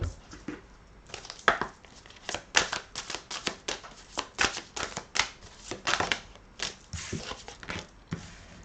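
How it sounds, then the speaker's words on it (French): Sacred Traveler oracle cards are drawn and shuffled by hand, making a series of crisp, close slaps and riffling flicks in an irregular rhythm that repeats steadily throughout. "on va tirer quelques cartes du voyageur sacré pour avoir un complément ou d'autres messages"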